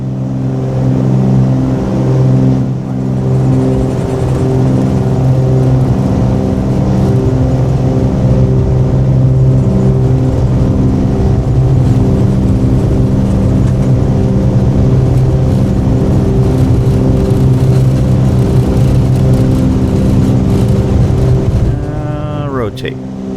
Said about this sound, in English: Put in some power, let the engines get even, and then start rolling and give it the rest.